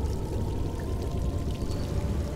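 Water being slurped up in the Modern Tales: Age of Invention video game, a steady close rushing, pouring liquid sound that runs unbroken for a couple of seconds with no voices.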